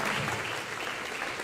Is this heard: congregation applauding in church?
yes